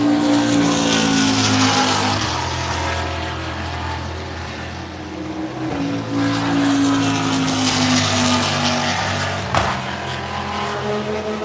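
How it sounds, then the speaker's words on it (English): Race cars roar past at the Daytona 24-hour historic race, including a red Dodge Viper, with loud sustained engine drones rising and falling in pitch as cars pass nearby, no voices. "That red car was a Viper."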